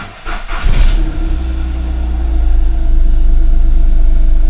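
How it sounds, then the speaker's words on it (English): An abandoned Volkswagen Fox is started up: a short cranking burst, then the engine catches and settles into a steady, close, loud idle with a low, even hum that slightly swells toward the end. "Amazingly, the car started and idled with no issues."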